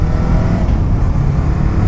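A Kawasaki Z400 or Yamaha MT-03 motorcycle fitted with an Akrapovic exhaust pulls hard through the gears, a loud, close, continuous low engine rumble with a faint rising pitch.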